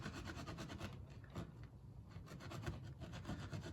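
A Scotch-Brite pad scrubs a fork bolt from a Honda 919 Hornet during a fork rebuild, giving quiet, rapid back-and-forth rasping strokes in quick bursts, faint and close.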